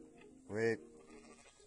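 A single sheep bleat rises out of quiet livestock-farm background, a short, fairly close and clear cry lasting under a second.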